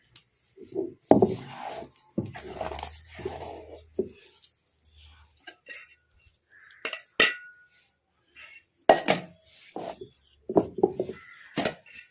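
Dishes and utensils clink in sparse, separate bursts while ground black-eyed pea lentil batter, stone-ground for masala vada, is scooped into a vessel, with quiet gaps between the knocks.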